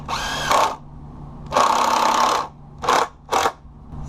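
A power drill driving 3-inch screws into the brace of a wooden fence gate, four close, loud whirring bursts of uneven length separated by short pauses, with no voices.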